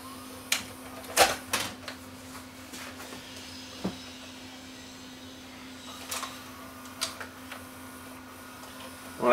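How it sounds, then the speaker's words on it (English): A JVC HR-S3910U S-VHS video recorder threads a tape, giving scattered mechanical clicks and clunks over a steady low motor hum, close and fairly quiet. "As you can see, it is threading correctly."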